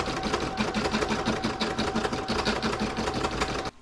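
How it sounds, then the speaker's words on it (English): An embroidery machine stitches down felt with white fabric laid over it for a snowman coaster, giving a fast, steady, loud mechanical chatter of needle strokes that runs continuously and stops abruptly at the end. "Now I'm going to pop it in my machine and stitch it down."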